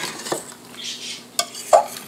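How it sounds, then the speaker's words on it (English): Partly cooked vegetables being mixed in a pan, a few scattered clinks and scrapes of a utensil over a faint sizzle, close by, no talk. "Mix that around in there."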